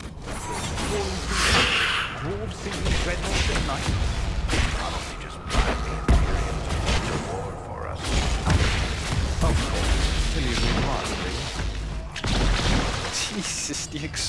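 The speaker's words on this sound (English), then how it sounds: "Jesus, the explosions go everywhere." Dense game-world explosions and clattering debris from Dragon Age Inquisition: Trespasser burst repeatedly and loudly in a continuous battle din, with mechanical creaks and booms layered throughout and muffled voices underneath.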